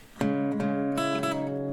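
A single strummed acoustic guitar chord from a song at original tempo rings out, followed by a second strum, sustaining clearly and close with no voices.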